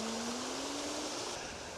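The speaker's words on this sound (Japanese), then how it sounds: "滝俣の滝の上です。 ここから滝が下に流れていくという。" Takimata waterfall on a forested mountain trail north of Kyoto, heard from above the falls as a steady broadband rush of flowing water, fairly faint and continuous with no voices.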